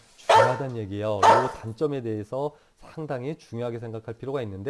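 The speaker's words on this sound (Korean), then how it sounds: "또 개소리가 들리죠?" A dog barks in short bursts somewhere in the background while a lecturer keeps talking over it.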